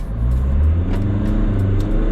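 A Jeep Wrangler's turbocharged engine revs and pulls hard close by during a drag run, a deep rising rumble sustained for about two seconds with no talking.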